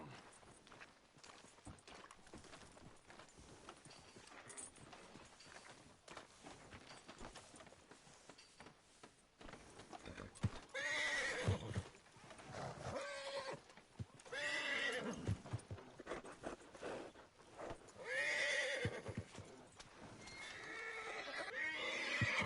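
In Red Dead Redemption 2, a horse whinnies several times and hooves clip-clop steadily, with loud, repeated neighs in the second half over the walking hoofbeats.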